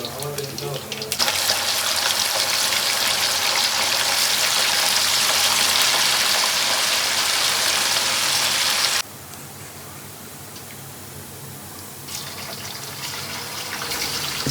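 Pieces of murrel fish frying in hot oil for a village-style pickle produce a loud, continuous sizzling hiss that drops to a softer, steady crackle partway through.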